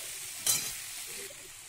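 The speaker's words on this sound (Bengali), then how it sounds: "আদা কাঁচা লঙ্কা বাটাটা দিয়ে এবার ভালো করে কষাবো মশলাটা" Ginger and green chilli paste frying with spices for a Bengali rohu fish curry, a sharp sizzle burst as it hits the hot pan, then settling into a steady fry with light stirring.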